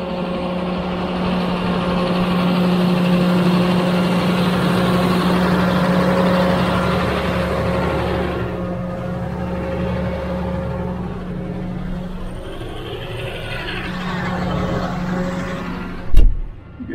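A diesel tractor engine idles steadily nearby with a low rumbling drone, ending with a brief clunk near the end.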